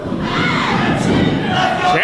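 An arena crowd at a televised professional wrestling show roars and shouts together in a loud, sustained wave of cheering, with scattered higher yells rising near the end.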